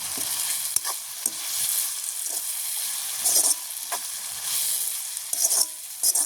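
Fennel seeds being stirred into a vegetable curry frying in a pan, a steady close sizzle with scraping strokes of the spoon and brief hissing bursts throughout, no voices.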